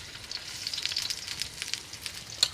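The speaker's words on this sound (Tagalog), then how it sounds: "Nagprito ko og luncheon meat and nagprito ko og itlog." Luncheon meat sizzles and spits in a hot frying pan, a quiet steady crackle with scattered small pops and no voices.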